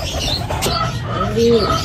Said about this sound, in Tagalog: nandito na yung mga kalapati natin